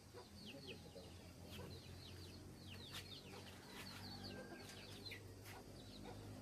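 Chickens cluck and chirp repeatedly in a busy outdoor farmyard, with birdsong overlapping and a steady hum of background noise.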